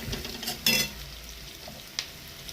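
Ridge gourd and brinjal fry in oil with a soft, constant sizzle, broken by a couple of sharp metallic clinks from a utensil against the pan.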